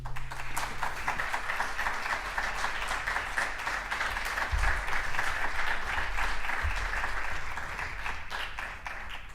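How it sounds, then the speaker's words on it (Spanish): Steady audience applause at a fantasy film festival soundtrack workshop welcomes Alicia Morote to the stage, a dense wash of many hands clapping that carries evenly for several seconds without fading. "Yo quisiera simplemente pediros un muy fuerte aplauso para ella"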